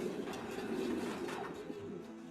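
Racing pigeons paired in mating cages in Taiwan give soft, low, repeated coos over a steady background hum, with no talk.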